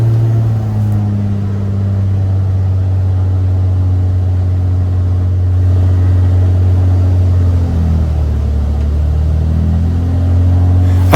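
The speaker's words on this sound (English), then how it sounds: "I decided to do the run-up right here in front of the hangar and keep the engine running at 1700 to 2000 RPM" A light aircraft engine runs up at 1700 to 2000 RPM in front of a hangar during a battery low-voltage fault, giving a loud, steady droning hum whose pitch dips and rises again near the end.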